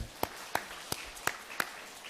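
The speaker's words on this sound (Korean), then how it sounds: "우리 다시 한번 박수 한번 칠까요?" A church congregation claps together during Sunday worship after a birth announcement, with five distinct, evenly spaced sharp bursts of clapping at moderate distance, quite soft overall, and no one speaking.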